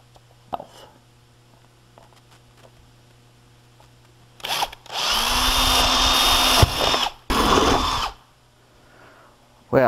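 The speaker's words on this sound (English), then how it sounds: "I turned it sideways just to make it a little more easier for me to drill." A handheld power drill bores rivet holes through a metal rudder spar in a workshop, giving two loud, sustained whining runs of a few seconds each after quieter clicks and handling sounds.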